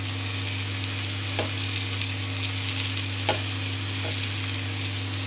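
Ginger, green chili and tomato paste being stirred into potatoes in a hot pan for Kashmiri aloo dum, a loud continuous sizzle with a few soft spoon scrapes, close and without voices.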